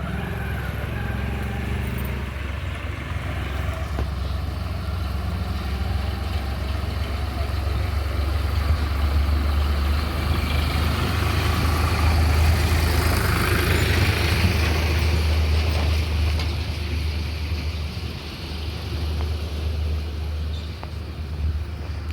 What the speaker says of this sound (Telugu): మెల్లగా ట్రాక్టర్ వస్తుందా